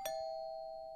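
A single electronic doorbell chime from the video game Home Alone rings out clearly, its bright tone sustaining evenly for about a second.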